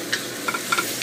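Yao mat choy vegetables stir-fry in a pan, a steady close sizzle with quick scraping and clinking of the spatula as they are tossed.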